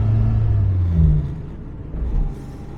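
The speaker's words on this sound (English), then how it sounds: "Sounds nice and throaty. We're power shifting it now." A Morris 1300 engine pulls hard through a power shift, a throaty low rumble that swells, dips briefly between gears and builds again, close and steady with no talk.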